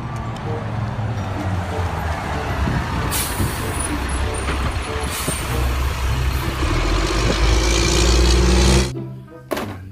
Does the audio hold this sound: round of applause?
no